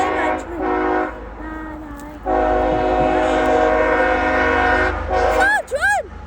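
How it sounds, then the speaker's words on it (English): A train passes on a cold snowy December day, a low rumble rolling through the whole stretch while a loud sustained horn sounds twice close by, and excited voices call out near the end. "Train! Train!"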